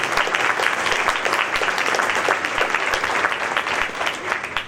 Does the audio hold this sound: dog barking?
no